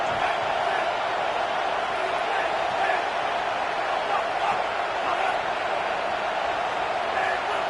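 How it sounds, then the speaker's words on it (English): Football stadium crowd at Auburn vs Clemson roaring steadily and loudly throughout, a dense sustained wash of thousands of voices with no break. "with this place rocking, the crowd forces a false start"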